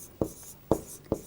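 Pen strokes from someone writing out a maths solution to a quadratic equation, three short scratchy taps roughly half a second apart, close and clear with no talk.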